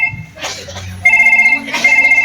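A telephone ringtone sounds in two bursts of steady electronic tones, fairly close and clear, with a little background noise between.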